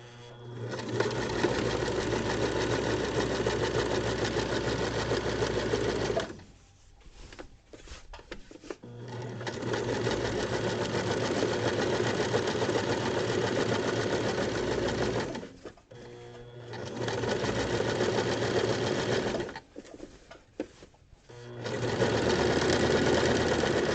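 A sewing machine stitches along one side of a fabric seam, whirring steadily in three long runs separated by short pauses with light clicks and handling noises.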